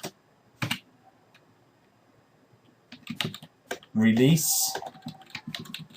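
Keys clatter on a computer keyboard as ipconfig commands are typed, in short close bursts of clicks separated by pauses, with someone speaking in between.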